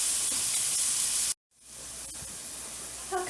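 Carrots sautéing in a pan on a home stove for a Southern smoked sausage, greens and white bean soup, giving a steady hiss and sizzle that cuts out briefly, then returns at a slightly lower level.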